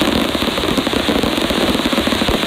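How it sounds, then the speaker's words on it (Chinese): A fireworks show over Palau's National Congress square for its Independence Day crackles in a dense, loud, continuous barrage of rapid popping bursts with no pauses. "绚烂烟火点燃帛琉夜空。"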